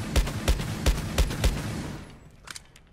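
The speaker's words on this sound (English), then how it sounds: "destroy the corners of this wall with the deagle" Five evenly spaced Desert Eagle pistol shots blast through a wall in Rainbow Six Siege, each loud and punchy with crumbling debris, followed by a few quieter clicks and impacts.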